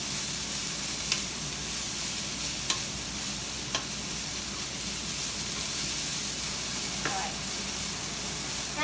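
Cabbage being stir-fried for chicken lo mein, with carrots about to go in, gives a steady sizzle in the pan and a few sharp scrapes of the utensil against the cookware.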